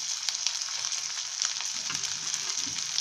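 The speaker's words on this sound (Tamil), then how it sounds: "அதையும் இதில் போட்டுருங்க தக்காளியும் கொஞ்சம் வதங்கட்டும்" Tomato and onion frying in a pan for a Tamil fish roast, a soft continuous hiss and crackle of oil, steady and fairly close with faint scattered pops.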